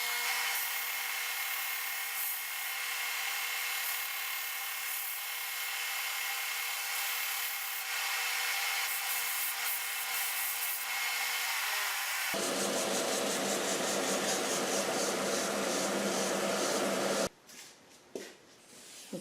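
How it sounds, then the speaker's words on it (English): Sanding a segmented wood platter flat to a marked line, a steady, close, whirring abrasive hum that runs unbroken, then shifts to a harsher, brighter grinding tone before cutting off near the end. "So now I'll sand perfectly to the line."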